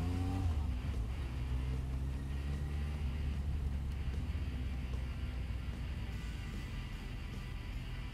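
A 2011 Suzuki Bandit 1250 with electronic fuel injection runs steadily, its engine droning in a continuous low rumble with a slight rise in pitch at the start, close and loud with no talking.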